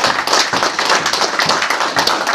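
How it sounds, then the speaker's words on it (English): A football crowd claps in a steady round of applause, many hands close together, with no voices breaking through. "Big round of applause"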